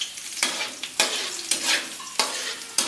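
Fried rice sizzles in a pan while being cooked until golden brown, with a steady fry broken by sharp, rhythmic bursts from stirring about every half second. Close and clear, with no talking.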